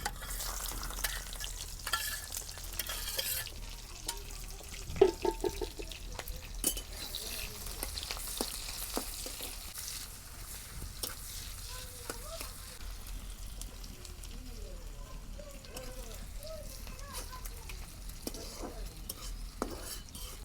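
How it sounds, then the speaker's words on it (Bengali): Chopped onions fry in hot oil in a pan for a small fish and potato curry, giving a steady close sizzle with occasional scrapes and light utensil taps. "আমি তেল দিয়ে দিব গরম হচ্ছে এখন আমি পেঁয়াজ কুচি দিয়ে দেবো"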